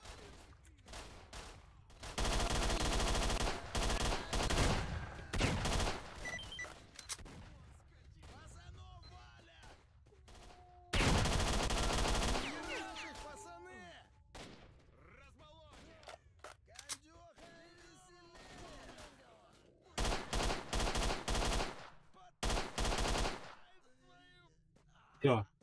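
Assault rifle gunfire in the video game S.T.A.L.K.E.R.: Shadow of Chernobyl, loud sustained automatic bursts in several long volleys, close-sounding, with someone talking in the gaps between them.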